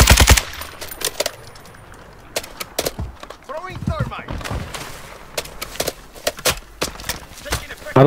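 Bursts of rapid automatic gunfire crack close by in Call of Duty Warzone 2, mixed with single shots and brief pauses, while a voice speaks quietly underneath.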